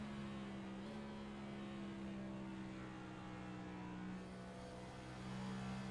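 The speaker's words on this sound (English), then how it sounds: "Weird hearing a downshift at Phoenix" A Next-Gen Cup Series race car at Phoenix's ISM Raceway in a racing video game drops down into fourth gear, its steady, droning engine note making a brief step in pitch early on before holding a continuous roar.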